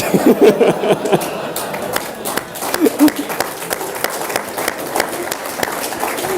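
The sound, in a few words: audience applauding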